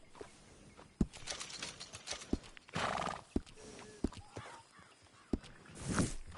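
A horse whinnies while hooves clop irregularly at a moderate distance, with sharp individual hoof strikes and a drawn-out neigh in the middle.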